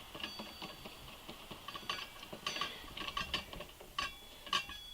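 Wrench tightening a brake line fitting onto the front caliper of a Honda Ruckus scooter, producing a close series of sharp, irregular metallic ratcheting clicks with no talking.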